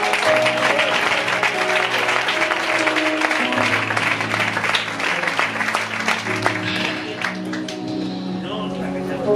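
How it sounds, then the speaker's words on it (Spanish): Church congregation clapping along during a service at Iglesia de Oliva, dense applause mixed with sustained organ-like musical tones and some voices, loud and continuous. "aplaude, Señor."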